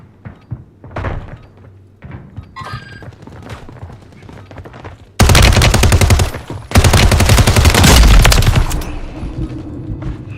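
Rapid automatic gunfire in the video game Apex Legends follows a few scattered thuds and clicks, then sounds in two loud, sustained bursts close by with a brief break between them.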